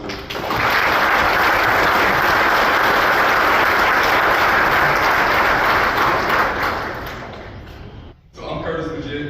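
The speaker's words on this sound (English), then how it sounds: "we'll give a round of applause to" Audience applause at a former Tennessee football linebacker's induction ceremony in Gainesville, Georgia: dense, loud, sustained clapping for about eight seconds that fades out, followed by a brief pause and a hint of renewed sound.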